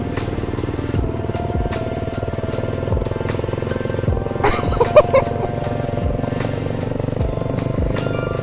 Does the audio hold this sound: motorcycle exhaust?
yes